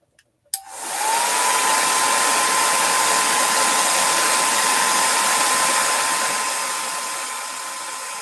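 A heat tool drying a paper craft piece switches on after a couple of soft clicks, then blows a loud, steady whirring roar that holds evenly, easing slightly toward the end, with no voices.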